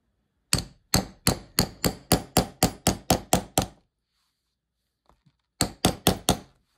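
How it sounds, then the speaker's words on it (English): A hammer drives a stitching tool through leather for saddle-stitching a handmade wallet: about a dozen sharp, evenly spaced knocks, a pause, then four more, close and crisp against silence. "you're gonna wanna just use your hammer"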